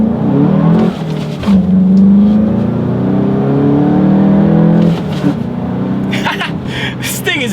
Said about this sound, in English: we're going to see how quickly we can get the Golf GTI up to speed here